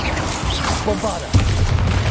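A Bombarda spell blasts in Hogwarts Legacy, a loud, deep booming impact near the end after a short stretch of rumbling battle noise, with a brief voice-like sound in the mix.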